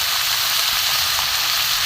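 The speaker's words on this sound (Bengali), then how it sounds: "আস্তে আস্তে ভাজা হোক" Vegetable curry with green chillies sizzles steadily in a pan over low gas, a dense, even hiss close by with no pauses and no voices.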